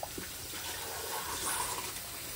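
Tap water runs steadily during dishwashing, a continuous broadband rush of flowing water at moderate level with no talk over it.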